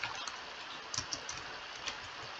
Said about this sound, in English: I can hear him clicking ferociously